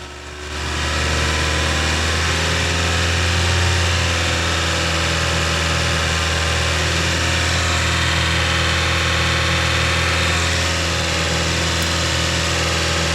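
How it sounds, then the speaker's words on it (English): A Hyundai i30 with the G4 engine holds a steady raised idle of about 2500 RPM while its cooling system is bled, giving a continuous loud hum with a low steady drone throughout and no talk. "Once the engine has warmed up, I'll give it some throttle to keep it revving around"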